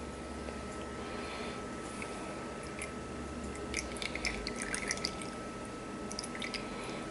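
Chili-lime juice pours and drips through a strainer into a bowl, a steady close wet trickle with small splashy drips throughout.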